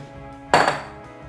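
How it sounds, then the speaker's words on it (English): A metal spoon pulled from a clutter of kitchen utensils gives one sharp, close clatter and jangle that quickly fades, with a quiet hum before and after. "And I will grab a spoon."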